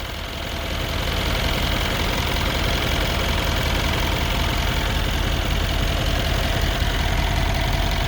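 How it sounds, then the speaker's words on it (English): Rebuilt engine of a 2015 Mercedes CLS 63, run for its first start after a 205k km rebuild, idles steadily at close range, a constant loud rumble from a brief ramp-up onward with no talk. "And that was the first start."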